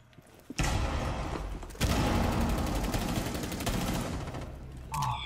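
Sustained video game gunfire: a dense, loud burst of rapid shots that starts abruptly, surges again after a brief dip and runs almost continuously to the end.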